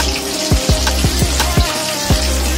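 Potato vadas deep-frying in hot oil give off loud, close bubbling and crackling, with a low steady rumble beneath and repeated popping bursts throughout.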